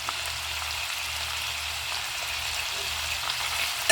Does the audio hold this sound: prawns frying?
yes